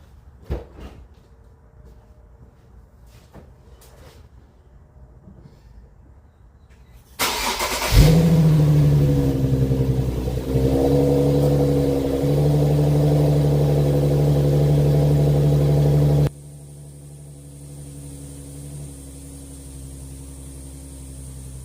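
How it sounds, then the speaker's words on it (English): After quiet handling noises, a car engine cranks and catches with a rev, then idles steadily before settling to a lower, quieter hum. "I'm gonna go ahead and start the car,"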